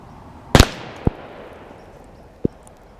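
A revolver with a 4-inch barrel fires .38 rounds outdoors, one loud sharp crack with a ringing decay, followed by two quieter distant bangs from other shots further off.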